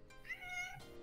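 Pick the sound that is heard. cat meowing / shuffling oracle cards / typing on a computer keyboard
cat meowing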